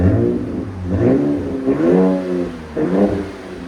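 A 2025 RAM 1500 with a 3.0L twin-turbo Hurricane inline-six and straight pipes revs repeatedly from idle, three loud, rising throttle blips with a deep, raspy exhaust tone, recorded close, with no speech.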